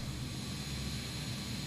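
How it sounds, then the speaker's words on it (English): An airliner passing overhead in Microsoft Flight Simulator 2020, a steady broadband jet roar with a low rumble, sustained and fairly even, heard alone without voices. "And there was another plane going over."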